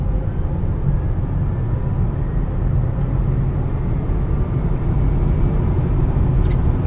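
A Honda Clarity plug-in hybrid pulls away from a stop under light throttle, giving a steady, low road and drivetrain rumble heard from inside the cabin, continuous and even with no talk.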